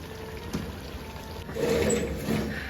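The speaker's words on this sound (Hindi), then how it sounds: "अब मैं इसके अंदर ऐड कर दूंगी राइस जो मैंने ऑलरेडी बॉईल करके रखे हुए थे, आहिस्ता आहिस्ता से।" Pre-boiled rice being added slowly into a pot of beef biryani, a soft continuous rustling pour with faint wet trickling, close and moderately quiet.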